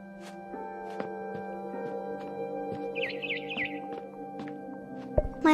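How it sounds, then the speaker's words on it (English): Birds chirping outside a window in the video game What Remains of Edith Finch, a light run of high tweets over a steady low hum, ending with a sudden thump. "Then I heard chirping outside my window."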